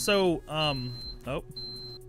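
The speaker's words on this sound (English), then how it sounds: "the same fucking coffee dispenser. It beeps." Beeps from a coffee dispenser come through as thin, steady electronic tones sounding twice, the second starting about two thirds of the way through, beneath lively nearby talking and laughter.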